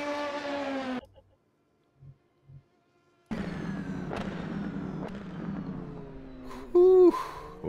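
Race car engine sounds from the rFactor 2 racing simulator with an endurance prototype, loud harmonic revving that cuts out abruptly, a near-silent gap with a few faint blips, then a sustained engine roar returning with rising and falling pitch and a sharp whine near the end.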